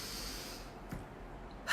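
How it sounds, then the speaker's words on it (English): A single deep breath taken close by, a soft airy inhale heard alone in a quiet room and followed by a louder rush of breath at the end. "let's take a deep breath"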